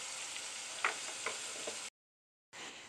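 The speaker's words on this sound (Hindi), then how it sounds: "ये देखिए मसाला अच्छे से भून के" Spices with turmeric and fenugreek sizzle and fry in a pan for aloo matar gajar methi, a steady quiet crackle with a few soft stirring clicks, cut by a short gap of silence.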